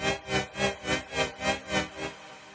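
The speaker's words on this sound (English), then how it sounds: "LFO pad, it sounds like this." An LFO-driven pad synth patch in Serum swells and fades in a steady pulsing rhythm, about eight even throbs, sustained and alone with no voice over it.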